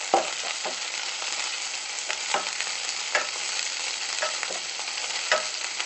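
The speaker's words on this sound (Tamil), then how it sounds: "லாஸ்ட் தாளிச்சு விட்டா போதுங்க." Spices tempering for buttermilk sambar sizzle and crackle in hot oil, a steady frying hiss broken by sharp pops and spits, close by, with no voices.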